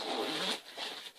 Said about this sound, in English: the zipper works just fine.